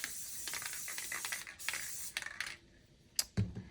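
Spray glue hissing from an aerosol can onto the backs of small sign pieces held over a box top, several quick short bursts in succession, then a couple of clicks and knocks, fairly quiet and close.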